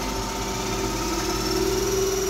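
A DC motor in a thyristor/IGBT controlled drive with tacho-generator feedback runs at 1000 rpm with no load, giving a steady electrical hum with a sustained whine, continuous and even.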